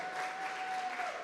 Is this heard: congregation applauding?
yes